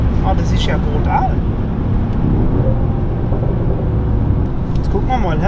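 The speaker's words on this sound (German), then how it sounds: "Hört sich sportlich an, so sollte sich eigentlich jeder AMG anhören" A chiptuned Mercedes-AMG GT 43 rated at 470 PS and 620 Nm accelerates, its engine a steady, loud drone from inside the cabin that holds throughout, with occasional voices speaking over it.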